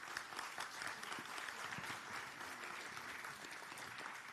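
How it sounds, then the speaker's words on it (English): A literary festival audience bursts into sustained applause, a dense, steady roar of many hands clapping that holds at an even loudness throughout, with no speech over it. "let's give him a bigger round of applause"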